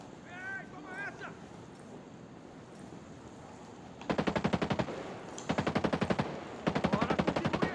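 Automatic gunfire in the Ghost Recon video game at Porto Manga Nui in Smuggler Coves: three loud, rapid bursts of machine-gun fire, each lasting about a second, follow a brief voice at the start.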